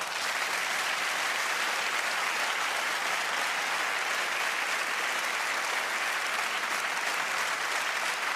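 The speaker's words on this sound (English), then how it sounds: "Please join me in giving them a big round of applause." Steady, dense applause from a large ceremony audience at the European Inventor Award, honouring the jury members; continuous and even throughout, with no talk over it.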